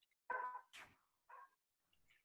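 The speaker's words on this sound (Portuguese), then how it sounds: "tem cachorro na rua" A few short dog barks, faint and distant, spaced apart with quiet gaps between them.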